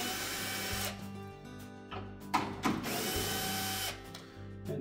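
Power drill removing the screws along the bottom of a Whirlpool washer's back panel whirs in short bursts, with clicking and ratcheting between the runs, close up and fairly quiet.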